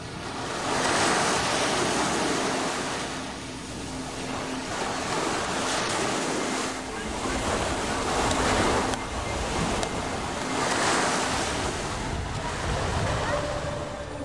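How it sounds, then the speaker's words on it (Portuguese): Ocean surf breaking against rocks on the Ibiza coast, with wind gusting over the water; continuous loud rushing waves swelling and receding in slow surges, no voices. "as correntes do oceano podem ser violentas, e o vento agita a superfície da água"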